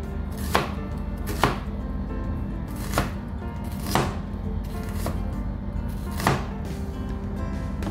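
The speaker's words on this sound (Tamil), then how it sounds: "இதுக்கு நமக்கு 2 ஸ்மால் சைஸ் ஆனியன்ஸ் தேவைப்படுது. அதை நல்லா ஃபைனாக சாப் பண்ணி எடுத்துக்கலாம்." Two small onions being chopped finely on a board, with sharp knife strikes landing about once a second, close and clear over a steady kitchen background hum, with no talk.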